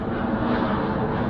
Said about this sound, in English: A lot of airplanes flying today.